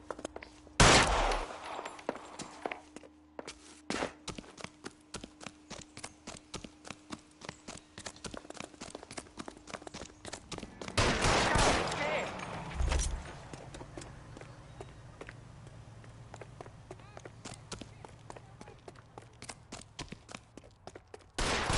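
Gunshots from a PS4 video game ring out as sharp scattered cracks, with a couple of louder bursts standing out over a busy, clicking game soundscape.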